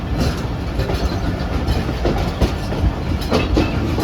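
A train pulls out of Saija railway station on the loop line, wheels clacking in an uneven rhythm over a steady rumble of cars and engine, fairly close and continuous with no talk.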